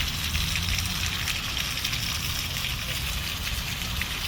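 Steady rushing water fills the scene, a constant wet hiss with low rumble underneath, close and continuous without pause.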